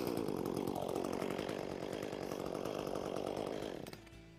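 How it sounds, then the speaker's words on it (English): An Echo gas chainsaw runs loudly at a steady buzzing idle, then its engine note drops sharply near the end. "you're ready to start your chainsaw."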